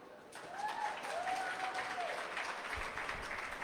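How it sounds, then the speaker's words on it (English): Audience applause at a community hub launch event, a soft, distant spread of clapping from the crowd, with a few faint voices and a whistle-like call drifting over it. "A hot round of applause, ladies and gentlemen"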